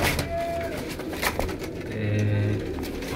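Pigeons coo softly and repeatedly in a loft of older breeder birds, low rounded calls layered over steady background noise with faint bird chatter throughout.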